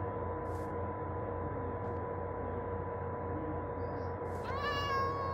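A cat meows in Minecraft, several short high cries over a steady droning game soundscape, with a rising tonal chime near the end.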